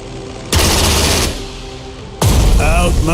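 Gunfire from a Pacific air battle in the strategy game Strategic Mind The Pacific: two loud sustained bursts of rapid shooting, the first lasting under a second, a quieter rumble between, then a second burst with a rising whine as an aircraft goes down.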